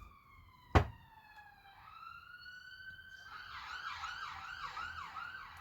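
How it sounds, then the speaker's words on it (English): Ambulance siren wailing as the vehicle passes, a sharp thump at the start, then rising and sweeping tones that grow louder and more rapid. "Show me that ambulance there."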